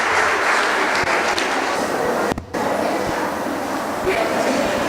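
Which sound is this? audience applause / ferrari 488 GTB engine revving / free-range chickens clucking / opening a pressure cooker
audience applause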